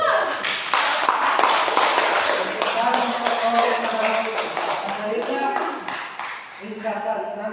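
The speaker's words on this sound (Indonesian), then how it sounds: "Tepuk tangan." Applause from a classroom audience after a student's peer-teaching presentation on blood cells: a dense run of claps lasts several seconds, with voices chattering over it throughout.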